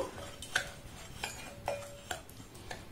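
Dry ingredients, including a small pinch of spice and ground coriander, are stirred in a bowl, with a few sharp utensil clinks and scrapes against the dish amid quiet room tone.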